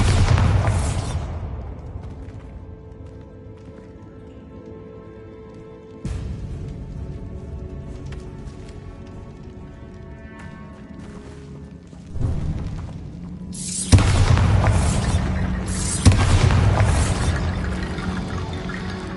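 Bombarda spell blasts in Hogwarts Legacy, heard as deep booming bursts with crackling debris, one near the start and another loud pair later, over a low ambient game background; no talking.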